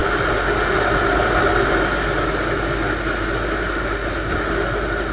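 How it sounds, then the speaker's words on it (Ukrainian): A Chinese Viper 200 motorcycle with new tuning accelerating, a steady loud engine drone under heavy wind rush, sustained and continuous throughout with no talk. "Так от прискорюється китайський мотоцикл на новому тюнінгу."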